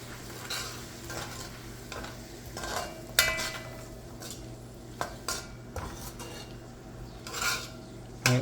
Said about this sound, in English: we're going to put it on the pot. Then we're going to stir it up a little bit